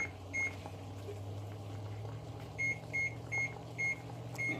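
A kitchen timer being set while rice boils for Christmas Eve tamales: several short, high electronic beeps, one early and then five spaced out in a quick, regular sequence, over a low, steady hum from the kitchen.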